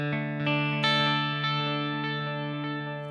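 Electric guitar run through a 2290 P Dynamic Digital Delay pedal, sustained chords with shimmering repeats that stack and slowly decay into a wide, spacey ambient wash, no talking.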